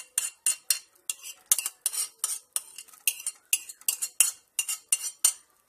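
A spoon stirs chopped cucumbers into thick yogurt in a bowl for a Turkish cucumber-yogurt dish, giving a steady run of close, rhythmic clinks and scrapes, about two or three strokes per second, with no voices.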